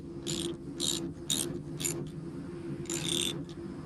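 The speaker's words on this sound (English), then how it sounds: "Take out the slack and retighten the bolt." A split bolt connector being retightened on an ElectroBraid horse fence, heard as short bursts of close metallic ratcheting clicks from the tool over a steady low background hum.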